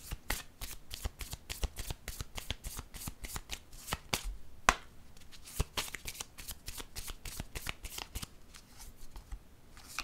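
A deck of tarot cards is shuffled by hand at a quiet, close distance, giving a rapid series of soft papery slaps and riffles in an uneven rhythm with one sharper snap midway.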